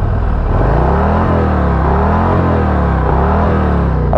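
A 2023 Harley-Davidson Street Glide motorcycle engine runs steadily close by, its deep, throbbing rumble holding an even, loping pulse with slight swells in pitch throughout, with no voices.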